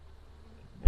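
Honey bees buzzing as a hive is split open, a faint steady hum that swells into a loud close burst at the very end.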